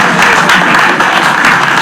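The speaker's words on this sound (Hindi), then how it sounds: "थैंक यू राजीव भाई के लिए तालियां।" A short burst of dense group applause for a guest on a reaction show, loud and close, steady throughout with no talking over it.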